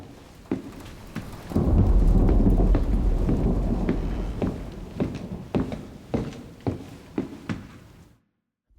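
Stormy ambience with rumbling thunder and rain, drenched in a large convolution reverb for a horror game; sharp footstep-like hits echo through a large space before cutting to silence.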